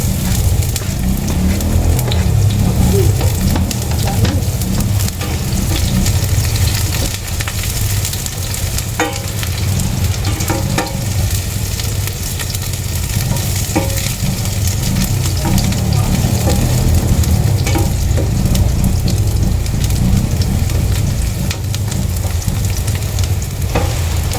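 Onions sautéing in a hot pan while cooking squash with sardines, a steady loud sizzle and crackle running throughout with occasional stirring clicks, no talking.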